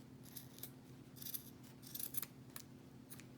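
Scissors snip through material for a homemade gnome craft, with a handful of quiet, crisp cuts in an uneven rhythm close by and no talking.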